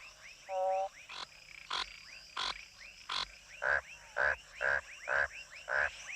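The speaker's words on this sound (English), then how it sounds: "The frog's croak is not, as ancient peoples believed, the strangled cry of a newborn" Adult frogs give mating croaks, one bubbling trill followed by a regular series of short, loud, evenly spaced croaks, close and clear over a quiet night backdrop.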